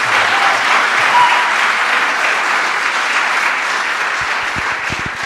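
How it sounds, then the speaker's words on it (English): Audience applause at a privacy panel discussion, a loud, dense, continuous wash of clapping filling the whole stretch and easing only slightly near the end. "That was not actually meant to be an applause line."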